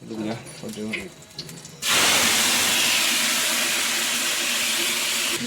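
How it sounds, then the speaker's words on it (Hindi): A voice talks briefly, then a loud sudden sizzle as cumin hits hot oil in a pan, a steady close hiss that continues to the end. "पहले टमाटर डाला फिर जीरा का तड़का लगा रही"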